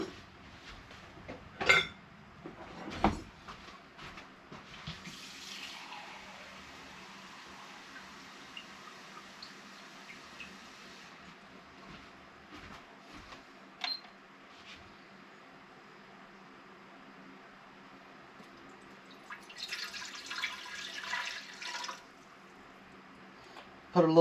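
Water is poured into a breadmaker pan in a kitchen, with soft trickling and splashing in two bursts between clinks of the pan and light handling noises, fairly quiet throughout.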